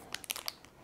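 A few quick, crisp crunches from biting into a chocolate-coated Latvian chocolate snack with chocolate filling and chocolate chips, close and fairly quiet with no talk.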